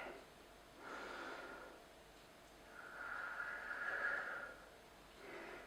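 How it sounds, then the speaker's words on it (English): A yoga instructor takes slow, deep breaths while holding a stretch on the forearms. The soft, airy inhales and exhales swell and fade in long waves, close and quiet, with no talking. "I'm going to take 3 breaths here."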